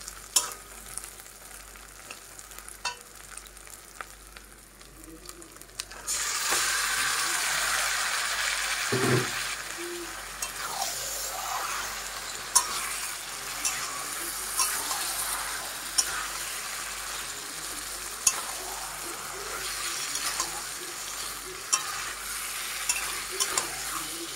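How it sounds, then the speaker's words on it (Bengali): Mutton pieces dropped into hot spice masala, the quiet background suddenly giving way to a loud, steady sizzle, with occasional stirring scrapes and clinks of a utensil against the pot, close by and without talking. "এবার মাংসটাকে আমি দিয়ে দিচ্ছি এই মশলার মধ্যে"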